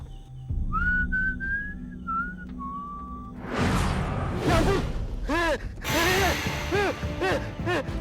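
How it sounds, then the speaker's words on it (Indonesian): A person whistles a short, wavering tune of a few sustained notes. After a few seconds the whistling stops and gives way to louder, irregular creaking and mechanical sounds. "nggak boleh siul-siul"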